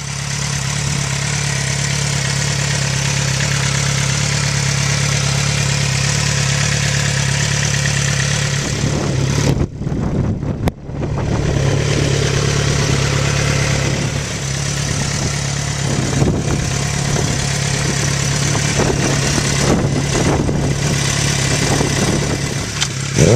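A 2007 Suzuki GSX-R 600 sport bike idles steadily up close, a constant mid-pitched engine hum broken once by a brief drop in sound partway through.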